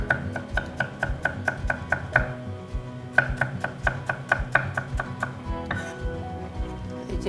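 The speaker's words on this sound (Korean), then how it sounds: "그래서 마늘 채 썰고" Garlic being sliced into thin strips with a knife on a cutting board, rapid even runs of crisp taps up close with a short pause between bursts, no talking.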